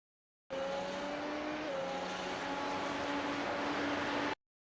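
A race car brakes hard on the Algarve International Circuit in the video game iRacing, its engine note dropping while the tires hiss and squeal in a steady four-second run that starts and cuts off abruptly, with no talk.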